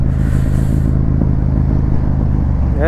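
Motorcycle engines droning loudly and steadily on a fog-covered road while following other bikers, with a constant close rumble throughout and no voices.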